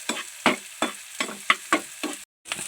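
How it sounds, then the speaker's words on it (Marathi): Onion sautés in oil with garlic as a spatula stirs it in rhythmic strokes, each pass bringing a short burst of sizzle about every quarter second, close and fairly loud, with a brief silent gap near the end. "आता आपण कांदा टाकू छान परतून घेऊ"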